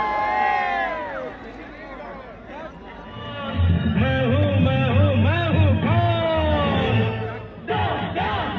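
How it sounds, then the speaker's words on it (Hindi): A large crowd at a Riyadh stage show cheers and shouts loudly to welcome Amitabh Bachchan, with a dense roar of voices swelling from the middle of the clip onward. "मैं चाहूंगा जोरदार तालियों से स्वागत करें the one and the only mister Amitabh"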